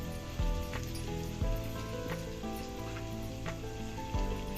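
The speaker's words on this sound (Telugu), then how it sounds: "ఇప్పుడు పేస్ట్ ఫ్రై అయిపోయింది." Spice paste for a Telugu fish curry sizzles as it fries in a pan, a continuous hissing crackle with a few louder bursts and no talking over it.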